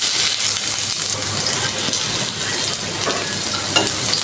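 Onions and dried chillies fry in oil in a wok, a steady, close, dense sizzle and crackle with faint stirring scrapes that runs unbroken for the whole stretch.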